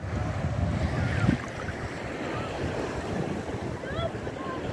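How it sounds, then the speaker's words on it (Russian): Adriatic Sea waves wash onto the beach at Bibione, Italy, a continuous surf roar mixed with wind buffeting the microphone. "Ну вот оно, море Адриатическое."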